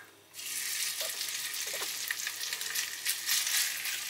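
Pork hits a hot pan for a stir fry and sizzles loudly, a bright crackling hiss that continues steadily with small pops and stirring.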